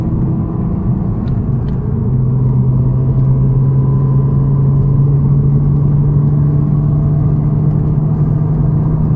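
A 1992 Audi Coupé Quattro V6 idles while warming up, a steady loud low rumble with an even droning hum that holds constant throughout, close by with no talking.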